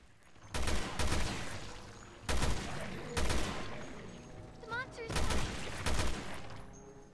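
Gunfire in Resident Evil Revelations 2, heard as heavy bursts of rapid shots in several loud clusters separated by brief pauses, close and punchy, with a short electronic chirp between volleys.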